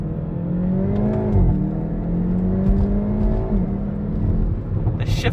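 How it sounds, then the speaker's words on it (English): A 2022 Hyundai i30 N hot hatch with 206 kW accelerates hard in first gear on an open road, heard from inside as a loud sustained engine drone that rises in pitch with shifts. "I think I'll go into first gear."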